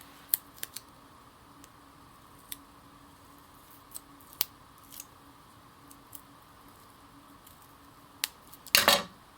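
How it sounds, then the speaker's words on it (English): Scissors snip paper for a handmade owl Valentine card in scattered, sharp, close clicks over a quiet room, ending in a quick burst of rustling cuts. "I'm just going to take a piece and cut it in half."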